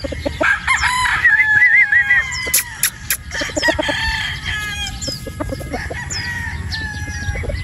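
A Possum Sweater gamefowl rooster crows loudly and close, several drawn-out cock-a-doodle-doo calls with clucks and farmyard bird noise between them.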